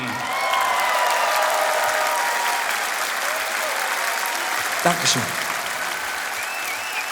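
A large open-air concert crowd on Roncalliplatz applauds steadily for a performer, a broad, even wash of clapping that lasts throughout, with a brief spoken thanks near the start.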